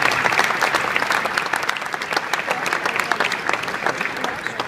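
An indoor audience gives sustained, fairly even applause for three finalists at a student business event, with crowd murmur mixed into the clapping.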